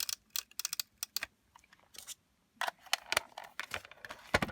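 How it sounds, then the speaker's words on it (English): A tape runner dispensing adhesive along the top edge of a sheet of coordinating paper for a handmade card, a series of close, quiet dry clicks and ticks in bursts separated by short pauses. "I'm going to run the tape runner right along that top edge"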